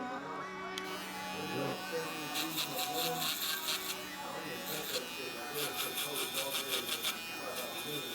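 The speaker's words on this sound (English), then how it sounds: "The first head with the Rebel Shaver." A Stylecraft Rebel electric shaver buzzes continuously up close, with rhythmic rasping bursts as it passes over skin, while people talk over it.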